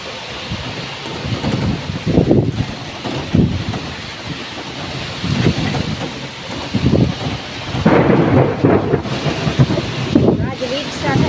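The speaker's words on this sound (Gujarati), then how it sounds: "ગાજવીજ સાથે પવન સાથે વરસાદ ચાલુ।" A thunderstorm in Bharuch, with heavy rain and gusting wind buffeting the microphone and repeated rumbles of thunder rolling in and out, loud and close.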